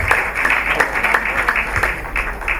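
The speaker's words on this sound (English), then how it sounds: "I think that deserves a round of applause." Audience applause at an awards ceremony, a steady patter of many hands clapping with faint crowd murmur, moderately loud and continuous throughout.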